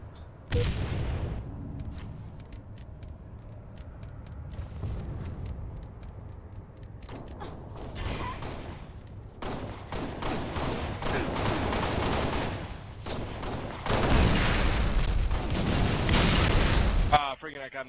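Gunfire and blasts in Halo: Combat Evolved Anniversary during a 2 v 4 slayer match on the Prisoner map, with loud bursts of shots and booms coming close together and building into dense volleys toward the end, mixed with players talking.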